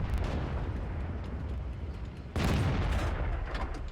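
A tank cannon fires in World of Tanks, a sudden loud boom cutting in partway through over a dense, rumbling battle background that stays heavy afterward.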